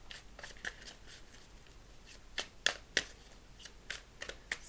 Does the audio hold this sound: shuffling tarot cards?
yes